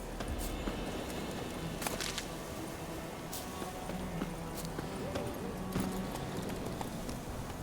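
A horse's hooves clip-clop steadily at a walking pace in The Witcher 3 video game, moderately loud and continuous under ambient game sound, with speech faintly present.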